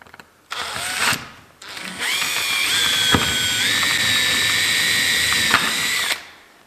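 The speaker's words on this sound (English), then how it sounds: "Just start with a smaller drill to get through it." A power drill whines loudly while drilling holes for a slot car track, starting with a short burst, then revving up and running steadily for several seconds before winding down.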